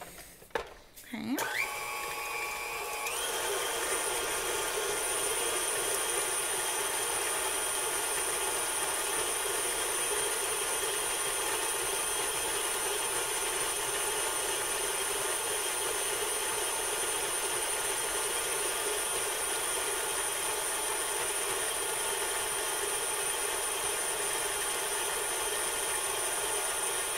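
An electric mixer beats chocolate chip cookie dough, starting after a brief clatter and then running as a steady, even mechanical whir at moderate volume for the rest of the stretch.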